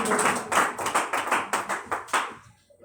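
A church congregation at a Sunday service claps to welcome a speaker, a moderate burst of many hands in loosely rhythmic pulses that fades out after a few seconds.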